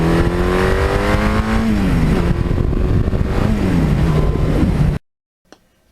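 A 1982 Suzuki GS1100E motorcycle engine runs loud and close, a throaty inline-four roar with rising and falling revs over several seconds before cutting off abruptly to near silence.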